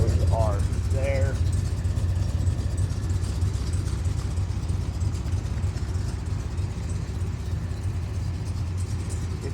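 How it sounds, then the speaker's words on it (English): A restored 1974 Chevrolet Corvette with a rebuilt 454 big block V8, aluminum heads and a cam idles with a steady, deep rumble throughout. A voice is briefly heard near the start. "1974 Chevrolet Corvette 454 big block with aluminum heads and a cam, this thing is a running machine"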